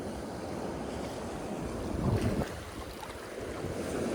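Big sea waves surge and wash around a small fishing boat with its engine shut off, a continuous rough roar of water and wind close around, swelling briefly midway.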